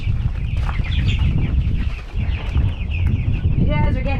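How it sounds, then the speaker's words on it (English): Chickens cluck and flap around in a pen at night, loud and close over a dense, rumbling background, and a voice is heard in the mix. "Oh, get out of there, little chicken!"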